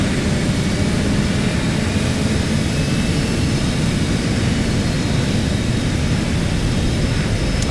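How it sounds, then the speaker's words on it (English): A jet's auxiliary power unit running during a cold start on an aircraft carrier in a flight simulator game, a loud, steady broadband whine and roar holding constant throughout with no talk. "Wait for the APU to start up."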